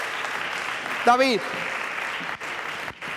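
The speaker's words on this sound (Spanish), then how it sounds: "fuerte el aplauso para ella y su músico" Steady crowd applause for a singer and her musician at a youth gala, with a voice briefly speaking over it.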